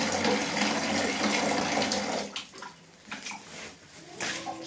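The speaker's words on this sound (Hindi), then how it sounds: "गर्म पानी आना शुरू हो गया है" Hot water rushes from a newly fitted electric geyser, a steady hissing gush that is loud at first and then eases into quieter, uneven splashing with faint background sounds.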